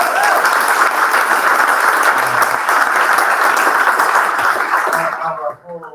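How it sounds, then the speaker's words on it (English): Audience applauding a co-founder at a startup demo day in Austin, a dense, close burst of clapping sustained for several seconds before tapering off, with a voice starting up at the end. "Let's give her a round of applause."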